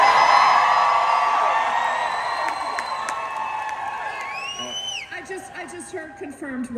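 A convention panel audience at San Diego Comic-Con cheering, whooping and yelling loudly at first, the roar thinning over several seconds into scattered shouts and whistles.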